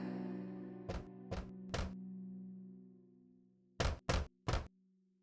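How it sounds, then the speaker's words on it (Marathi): Knocking on a wooden door comes in two groups of three sharp raps, separated by a pause, over a low sustained musical drone. "दरवाजावर टकटक करू लागला."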